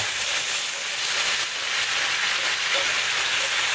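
Ingredients for chicken calabrese sizzle loudly in a hot pan, a dense, unbroken hiss of frying that holds steady throughout, close up with faint stirring beneath it.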